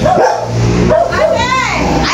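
A small dog yips and barks excitedly a few times up close, its calls mixed with whimpering.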